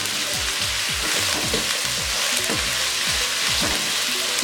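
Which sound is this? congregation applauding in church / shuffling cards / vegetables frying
vegetables frying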